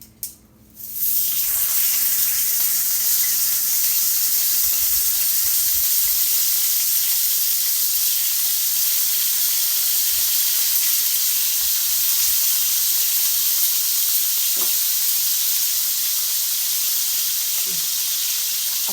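Four lamb chops hit hot ghee in a pan, giving a sudden loud burst of sizzle that settles into a steady, dense, bright hiss of frying, close and unbroken for the whole stretch.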